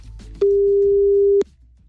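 A single steady telephone tone sounds for about one second while a call is placed, loud and clean against a quiet background, then stops.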